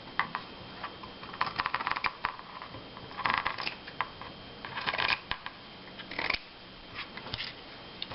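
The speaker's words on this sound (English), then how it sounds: "But basically you just cut your edges." Scissors snip around the edges of a fabric remnant being trimmed into a reusable sanitary cloth, with scattered crisp cuts and rustling in small bursts, close and fairly quiet.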